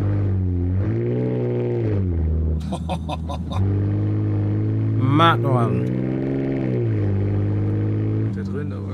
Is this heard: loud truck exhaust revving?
yes